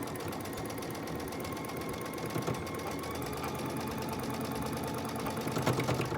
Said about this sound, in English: I'm going to sew that 1/4 inch seam allowance.